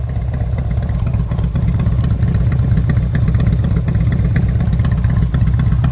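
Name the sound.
motorcycle idling with tuned flow exhaust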